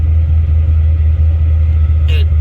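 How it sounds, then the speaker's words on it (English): An LS1 V8 car engine idles with a steady, loud low throb after starting. The idle holds even throughout, with a brief higher whine near the end. "So we'll just start it up. And our idle's back to normal."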